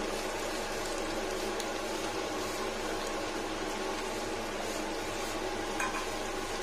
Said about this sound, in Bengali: রসুনটা খুব সুন্দর ভাজা ভাজা করতে হয় চিকেনের জন্য